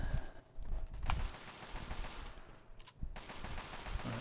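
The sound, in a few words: turret gunfire from the video game Fallout 3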